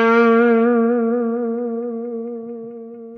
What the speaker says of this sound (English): You let the note sit for a sec and then add your vibrato.